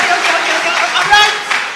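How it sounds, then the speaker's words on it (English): An audience at a youth ambassadors concert applauds in a steady, dense wash of clapping, moderately loud, with crowd murmur underneath. "Round of applause for that, please."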